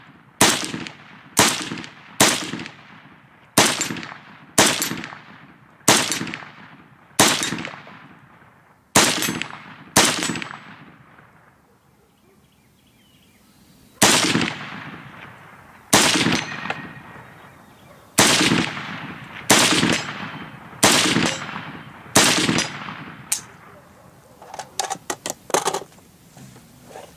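AK-pattern rifle, Polish Lynx Tactical, fired at an outdoor shooting range: a long series of sharp, loud shots at a steady pace of about one per second, each with a ringing echo, a pause midway, then a faster burst near the end.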